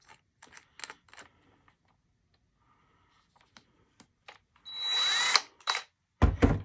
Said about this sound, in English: I'm just going to chuck it up in my drill here